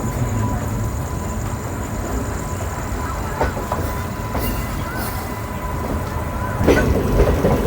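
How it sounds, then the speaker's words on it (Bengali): A passenger train pulls out of Khurda Road Junction toward Puri with a steady low rumble of wheels on rails, occasional clicks and faint squeals, and the noise swelling slightly toward the end. "আর বন্ধুরা আমাদের ট্রেন এখন পুরীর দিকে রওনা দিচ্ছে।"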